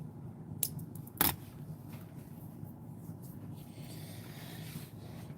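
Scissors snip once sharply through wire while making a ribbon bookmark indoors, a single close cut standing out over a steady low room hum, with a fainter click just before it.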